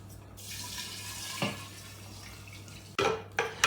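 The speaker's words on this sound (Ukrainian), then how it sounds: "Ну і тепер просто додаємо наш спиртовий розчин." Alcohol solution poured into a jar of dry herbs for a homemade tincture, a trickling, splashing stream with a few glassy knocks and a louder gush near the end.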